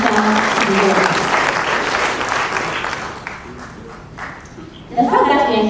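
Audience at an Afreximbank trade roadshow at a ministerial complex bursts into loud, sustained applause that fades toward the end, then swells again in a fresh round of clapping.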